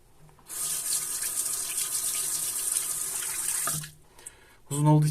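Water runs from a tap for rinsing before a full face shave, a close, steady hiss lasting about three seconds that cuts off abruptly, followed by a brief pause and a short voice at the end.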